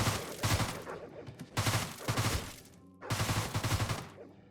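A 9mm SMG in the Deadbolt video game fires three separate bursts of rapid automatic gunfire, each roughly a second long with brief silences in between, loud and close with no talking.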